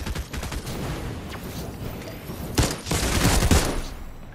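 Rapid bursts of gunfire in a shooter video game, a steady crackle of shots that swells into louder, denser volleys toward the end, with no talking over it.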